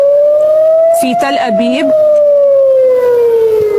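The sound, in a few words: air raid warning sirens sounding in Tel Aviv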